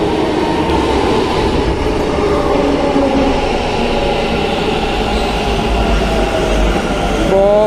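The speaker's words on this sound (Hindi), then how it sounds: "मेट्रो आ रही है।" A metro train rumbles loudly and steadily as it pulls into a station, with a faint squeal of wheels near the end, no talking.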